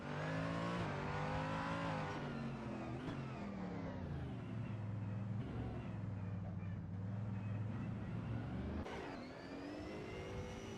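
Race car engines in a racing video game at Yas Marina, leaving the pits with a loud, continuous whining drone that shifts pitch as gears change, ending with a sharp rise in revs.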